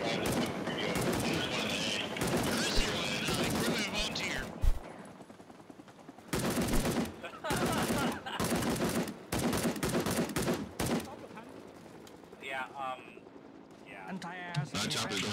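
Rapid AK rifle bursts in a first-person shooter video game crackle in several separate volleys amid game noise and scattered talk, with quieter ambient sounds and chatter between the bursts.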